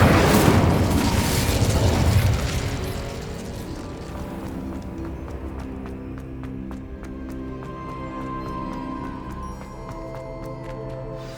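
Incendio fire spell cast in Hogwarts Legacy: a loud whooshing burst at the start that fades over a couple of seconds into a quieter tail with light clicks and rattles.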